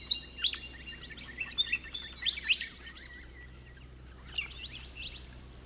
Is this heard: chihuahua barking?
no